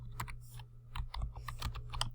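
Fingers type on a computer keyboard in a quick, irregular run of soft clicks and taps, close and fairly quiet, ending with a slightly firmer keystroke.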